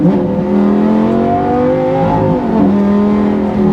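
A Lamborghini Gallardo engine in sport mode revs loudly up through its gears, pitch climbing then dropping at each shift, close and continuous.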